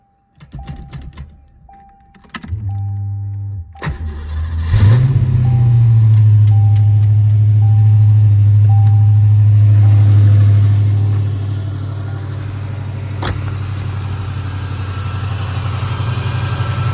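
A Ford Foxbody Mustang engine cranks briefly, catches and settles into a steady, loud idle that runs on, easing slightly lower toward the end.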